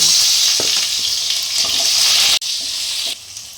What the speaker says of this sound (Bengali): আমি প্রথমে আলুটা ছেড়ে দিচ্ছি, একটু ভেজে নিব